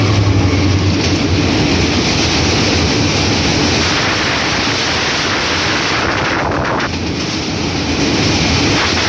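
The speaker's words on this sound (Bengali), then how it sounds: "ঢাকা থেকে ছেড়ে আসা রাজশাহীগামী 759 আপ পদ্মা এক্সপ্রেস এই মুহূর্তে রাজশাহী অভিমুখে ছুটে যাচ্ছে" The Dhaka-to-Rajshahi 759 Up Padma Express, hauled by a 6642 series locomotive, roars past at high speed, a loud continuous rush of wheels and rattling wagons up close throughout.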